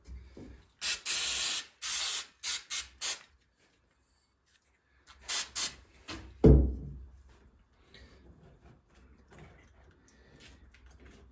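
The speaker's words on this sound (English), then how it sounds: "I love brake and clutch cleaner, it's great at cleaning stuff" A Honda 400 Four carburettor is being cleaned with brake and clutch cleaner. Several short, loud spray bursts come in a quick series, then a pause, then a few more bursts, followed by a clunk and quiet handling.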